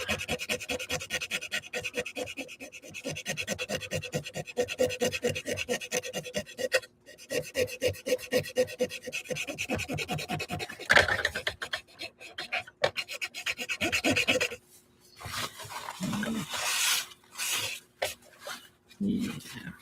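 Steady rubbing and rasping as paint is scrubbed off a painted rainbow mandala surface with a Q-tip, a continuous close scratchy friction running throughout with brief pauses and shifts in intensity near the end.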